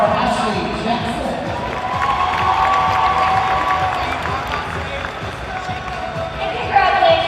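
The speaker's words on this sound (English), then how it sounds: "A round of applause for Ashley Jackson." A large crowd at a state high school competitive cheerleading final applauds and cheers in a broad, steady roar, with an announcer's voice speaking over it.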